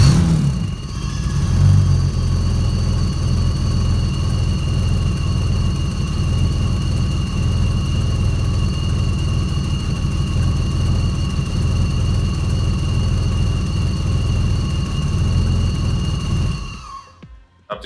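A BMW M70 V12 engine runs steadily at idle after being restarted, with vacuum gauges fitted on the intake. A continuous, fairly loud drone with a constant high whine is heard throughout, then it cuts off near the end.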